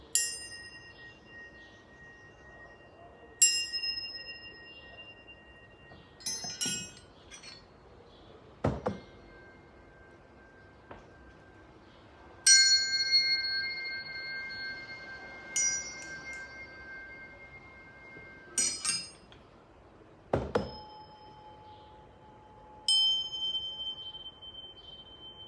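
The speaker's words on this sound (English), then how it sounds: "Let me get with a little bit of these high frequency tones" High, pure chime-like healing tones ring out one at a time, each struck note sustaining and slowly decaying over a quiet background, with a few deeper resonant strikes scattered among them.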